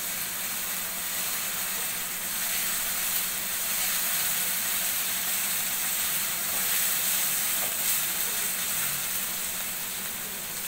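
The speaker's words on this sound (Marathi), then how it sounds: "त्यामध्ये हिंग, हे थोडं आपण परतून घेऊया." Asafoetida fries in hot oil for a Maharashtrian rice flour ukad, a steady even hiss of sizzling lasting throughout with no talk.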